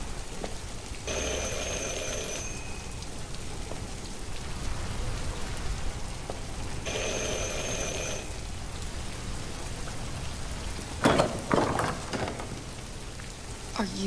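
Steady heavy rainfall drums on surfaces in the Detroit Become Human video game, a constant wash of patter with two faint electronic tones and a short knocking burst near the end.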